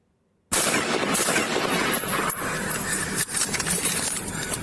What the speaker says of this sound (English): With 51 shots fired, subjects down